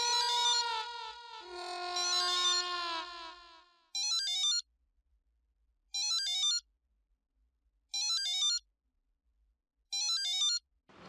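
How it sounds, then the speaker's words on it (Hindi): A phone ringtone plays indoors: a melodic tone first, then short bursts of electronic ringing repeated four times at steady intervals with silence between, loud and alone. "फोन बज रहा है"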